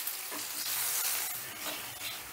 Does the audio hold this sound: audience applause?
no